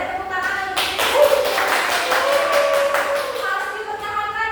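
A classroom of students claps in applause, a dense burst of rapid hand claps lasting a few seconds, with voices before and after it.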